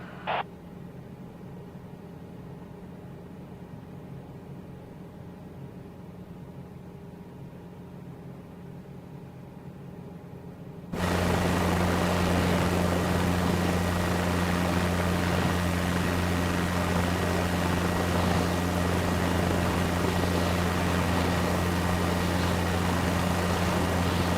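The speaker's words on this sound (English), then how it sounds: "Slowly ease the cyclic forward to get our helicopter moving." A simulated helicopter in Microsoft Flight Simulator runs as a steady rotor and turbine drone that suddenly jumps much louder partway through, then holds constant with no voices.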